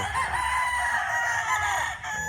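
A rooster crows in one sustained, fairly close call lasting the whole stretch, part of a flock of fighting-style chickens being readied for transport to Ilocos Norte, with no talk over it.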